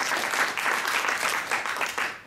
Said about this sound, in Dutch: Ja, applaus voor Wayne.